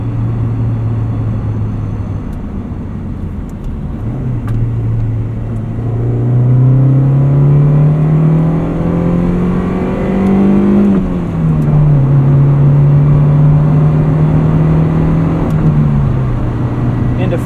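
A 1991 Honda Civic Si EF hatchback engine pulls steadily through the gears from inside the cabin, its tone rising in long sweeps and dropping at each shift into fourth and then fifth. Someone speaks over the loud, continuous drone.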